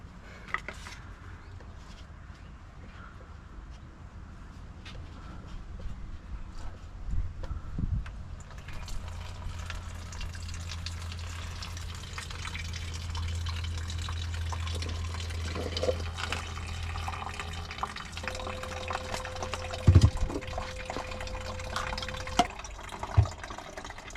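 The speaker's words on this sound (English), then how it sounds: "We'll catch all this fluid out of the radiator." Coolant drains from the radiator of a 1979 vehicle into a catch container, a steady liquid pour and splash with faint drips, growing fuller after the first few seconds and running on continuously.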